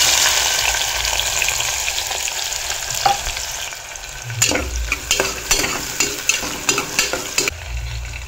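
Chopped onions fry in a hot pan with a continuous loud sizzle, while a spoon stirs and scrapes them in a quick, irregular series of knocks close up.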